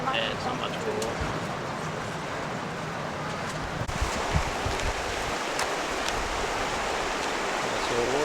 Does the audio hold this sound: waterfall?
yes